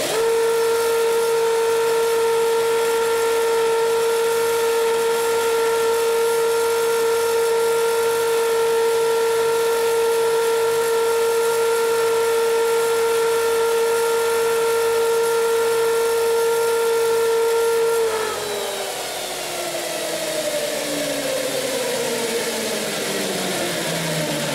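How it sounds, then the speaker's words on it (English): A grinder spins up as it shapes a blacksmith's fuller tool, holding a steady high whine for a long stretch before the tone drops and winds down as it loads up against the metal. "So I'll fire the grinder up and I'll show you how to do that."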